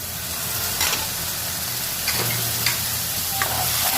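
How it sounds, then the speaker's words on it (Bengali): Ground spices and whisked yogurt frying together in a pan for an egg-and-pointed-gourd curry, a steady close sizzle with a few soft scrapes of stirring scattered through, no voices. "ভালো করে মশলাগুলোকে কষিয়ে নিব"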